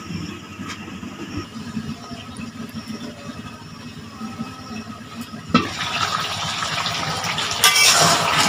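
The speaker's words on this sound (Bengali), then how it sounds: "এখন আমি এর ভিতরে জল দিয়ে দেবো।" Water is poured into a pot of simmering duck curry on a stove, a rushing splash that swells louder toward the end over low background noise.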